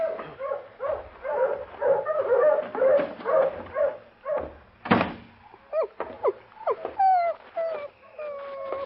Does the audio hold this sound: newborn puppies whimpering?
yes